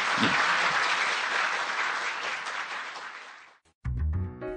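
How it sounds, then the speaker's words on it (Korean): A studio audience at a Korean news-academy anniversary broadcast applauds loudly and steadily for a few seconds. The clapping then breaks off abruptly and gives way to other sound. "여러분 큰 박수로 예 인사 함께 나누시죠."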